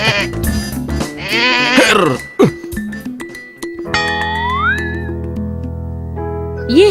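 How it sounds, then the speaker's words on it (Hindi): A goat bleats up close in a cartoon scene, its wavering cries repeated over a musical score and sound effects, with some voices and a cough-like sound mixed in. "ये बकरी कहाँ से ले आए हो तुम?"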